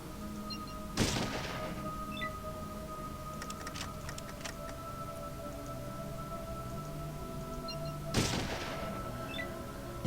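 Gunfire in the video game Fallout: two sharp, isolated shots about seven seconds apart, set over a steady electronic hum and faint ambient crackle.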